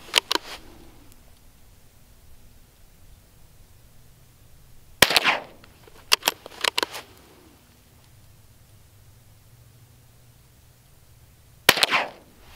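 Rimfire rifle shots ring out at an MGM KYL steel target rack, a handful of sharp, isolated cracks spaced seconds apart, some in quick pairs, each followed by a brief decaying ring.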